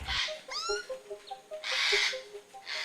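African grey parrot from Central Africa calling with a string of whistled, tonal notes and rising sweeps, interspersed with harsher broadband squawks, moderately close and without speech.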